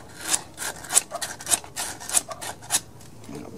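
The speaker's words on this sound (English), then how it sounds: "before I bolt this on, I'm gonna clean all this off, make sure there's good contact." Rhythmic scrubbing of the carburetor mounting surface on a Rol-Air gas air compressor engine, roughly seven sharp, close rubbing strokes at a quick, even pace, with no talk.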